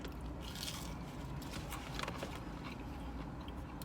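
Someone bites into a crunchy, fresh California-style burger at a Las Vegas restaurant, giving several faint, close crunching and chewing sounds with no talking.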